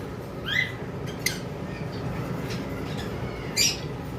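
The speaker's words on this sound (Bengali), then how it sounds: "এখানে একটা পেয়ার অপালাইন লাভবার্ড আমাদের কাছে রয়েছে" A pair of opaline lovebirds at a bird sale gives a few sharp, bright squawks and chirps at intervals, against a low background hum.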